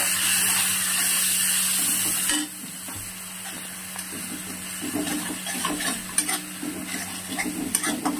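Water is poured into a spice paste frying in a pan for a pottal curry, first a loud rushing hiss for about two seconds, then softer ongoing sizzling and bubbling with stirring scrapes.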